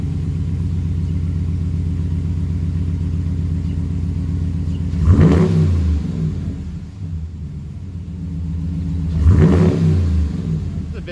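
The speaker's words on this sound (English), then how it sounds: "here's the first start with the new exhaust" A 2020 Ram Warlock pickup with a Flowmaster Flow FX catback exhaust idles with a deep, loud exhaust rumble, then revs hard twice, each rev swelling and falling back to the throbbing idle.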